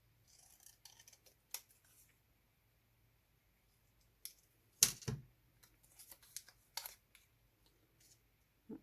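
Scissors cut out a paper piece for a handmade Christmas card. Soft, scattered snips and light paper rustles come in irregular bursts against near silence.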